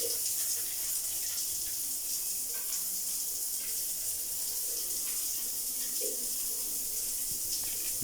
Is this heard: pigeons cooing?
no